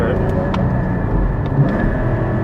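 Sports car engine, Porsche Cayman GT4 or Lotus Evora GT, droning loud and steady from inside the cabin in second gear, with voices talking over it.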